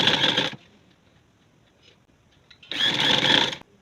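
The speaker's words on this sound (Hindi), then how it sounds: "नीचे हमने इसके ऊपर ही रख के तो सिलाई लगानी।" Sewing machine stitching a boat neck on fabric, two loud close bursts of rapid running at the start and end with a quiet pause between.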